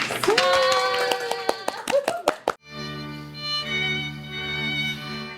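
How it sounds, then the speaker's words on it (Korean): A small group claps before a Duksung Women's University alumni interview begins: a few sharp, uneven hand claps, with a short vocal whoop among them, then a sudden cut to sustained tonal music. "일단 박수 먼저 치고 시작하겠습니다."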